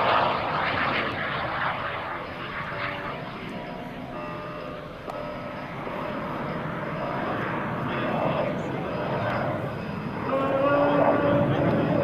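An F-86 Sabre jet roars past at the 2004 Dover AFB open house, a steady, broad engine rumble that swells slightly toward the end, loud and continuous throughout.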